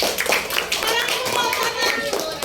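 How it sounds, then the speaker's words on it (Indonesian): Schoolchildren in an Indonesian classroom clap their hands together on their teacher's cue, a dense, busy patter of many small hands filling the room at close range, with some voices mixed in. "Oke, tepuk tangan dong"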